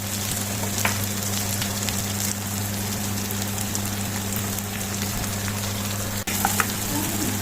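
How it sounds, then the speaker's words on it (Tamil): Onion, green chilli and garlic sauté in oil with a loud, steady sizzling hiss that is close and constant, over a low background hum, with one brief dip near the end. "வெங்காயம் பச்சை மிளகாய் வெள்ளைப்பூடு எல்லாம் இந்த எண்ணெயில் வதங்கணும்"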